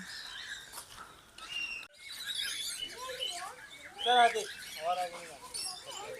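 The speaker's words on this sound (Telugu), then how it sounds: "ఎరుపు తల చిలుకలు అంటారంట" Red-headed parrots at Tirupati zoo give harsh, repeated squawks and screeches, fairly close, with a busy chorus of other birds around them and people talking in the background.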